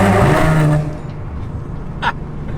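An Audi S4 with a valved exhaust roars loudly inside a tunnel, a booming deep blast that cuts off abruptly, leaving a lower echoing rumble with a brief pop afterward.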